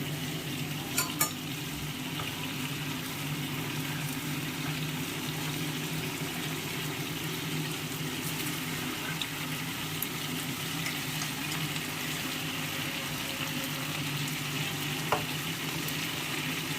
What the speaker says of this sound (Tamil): 1 கிளாஸ் தண்ணியில் தான் இது வேகும்